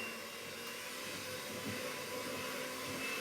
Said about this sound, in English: I'll whisk it more and I'll start turning the speed higher so I get more air into it